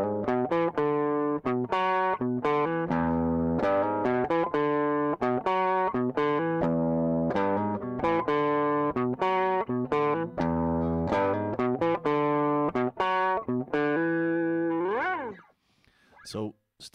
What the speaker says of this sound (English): As you can hear, I have a little bit of distortion kicked on.